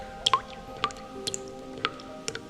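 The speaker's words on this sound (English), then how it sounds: "I just must have left the bathroom faucet on" Water drips steadily from a bathroom faucet left running, a handful of distinct close plinks spaced roughly half a second apart in a quiet room.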